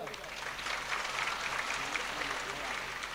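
Audience applause at a live Gujarati comedy show, a steady dense clapping from a crowd that carries on evenly throughout, moderately loud with speech mixed in.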